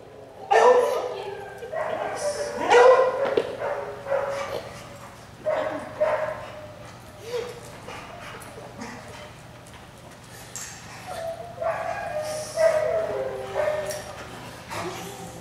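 A dog barks in short bursts, spaced out with pauses, at moderate distance against a quiet background with low hum.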